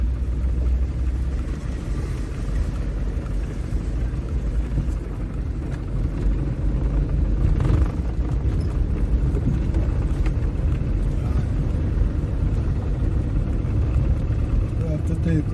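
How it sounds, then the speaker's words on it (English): Big truck hauling aggregate along a highway on St. Thomas, a steady, dense low engine and road rumble that continues unbroken throughout at a constant level. "in front of us we have one of those big trucks carrying"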